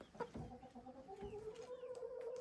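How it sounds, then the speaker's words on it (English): Hen with four young chicks sitting beside her gives soft, repeated clucks and short peeping calls, close by and steady across a quiet barnyard background. "Back here, we have a hen with her 4 young ones sitting right next to her."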